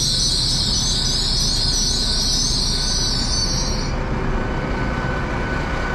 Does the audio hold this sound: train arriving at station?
yes